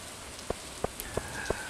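Rain falling in the farming game Stardew Valley, a soft steady patter with a few evenly spaced louder drip taps, fairly quiet and alone.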